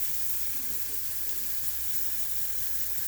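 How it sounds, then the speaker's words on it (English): Garlic pressed flat in a pan fries with a faint, even hiss, a steady low sizzle running throughout without distinct bursts and with no talking. "I'm just going to flatten this out here and let it fry up really well"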